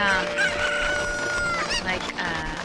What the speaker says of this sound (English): Cuckoos, chickens. They're chickens.